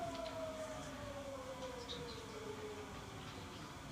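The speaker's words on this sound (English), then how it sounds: "This gives you an idea what the siren sounds like." A distant air raid siren in Ukraine wails, holding a steady tone that slowly falls in pitch, faint beneath a constant rumbling background noise.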